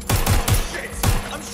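Rapid gunfire in Watch Dogs Legion: a quick burst of three loud, close shots, a short pause, then a fourth sharp report.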